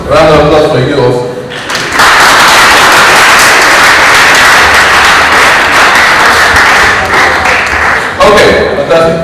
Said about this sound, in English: Round of applause for you also.